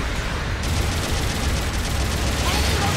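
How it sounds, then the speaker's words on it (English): Machine gun fire in the video game Gundam Battle Operation 2, a dense, loud continuous rattle of rapid shots mixed with blasts and mechanical game noise throughout, with a voice speaking over it. "Machine gun, mag gun."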